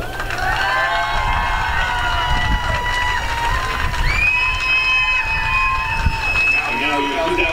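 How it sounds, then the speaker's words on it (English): A crowd at a 2018 USA South women's lacrosse championship cheers and whoops for runner-up Piedmont College, with loud, dense, steady noise and high shouts rising above it. "let's give a round of applause for the runner-ups"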